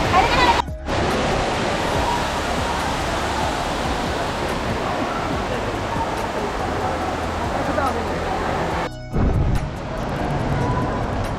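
Loud, steady roar of falling water from the tall indoor waterfall at Singapore's Cloud Forest, filling the whole scene as a dense rushing wash with only two brief dips; visitors' voices are faintly mixed in.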